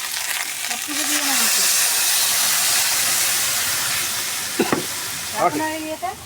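Chopped vegetables and masala fry in a hot pan, a steady loud sizzle that holds for several seconds and then eases, broken near the end by a few sharp clatters of stirring.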